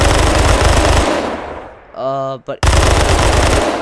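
Automatic gunfire from a weapon in the Minecraft Timeless and Classics gun mod, fired in burst mode from the hip: dense, loud rapid bursts fill the start and end, with a brief break in between.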